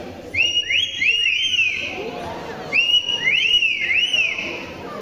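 Two bursts of bright, rising and falling whistles imitated by a parrot at a bird show at Cebu Safari, Philippines, each a quick run of three or four notes, with faint murmuring behind.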